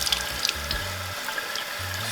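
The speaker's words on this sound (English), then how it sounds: "We're gonna fill the jars up," Water runs from a tap into sprouting-seed jars for the morning rinse, a steady close splashing fill with no one talking.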